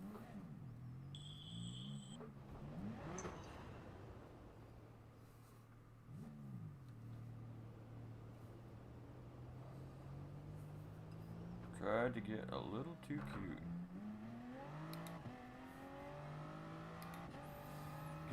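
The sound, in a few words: car driving and skidding in a racing video game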